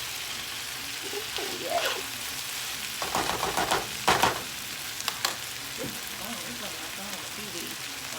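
Eggs frying in a hot pan: a steady, close sizzle with brief clatters of stirring, and a couple of short spoken exclamations over it.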